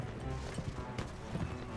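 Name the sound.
horse galloping in Mount & Blade: With Fire & Sword video game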